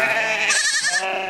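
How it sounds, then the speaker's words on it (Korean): A goat or sheep from a Mongolian nomad's herd on dry grassland gives one close, loud, wavering bleat of little more than a second. "허기진 배를 채우고 싶은 마음에 양과 염소들이 다투어 풀을 찾아갑니다"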